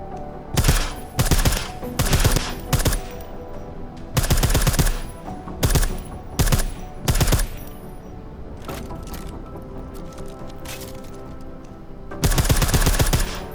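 Bursts of silenced gunfire in Deus Ex: Mankind Divided, repeated clusters of rapid suppressed shots separated by short pauses, fairly close and punchy.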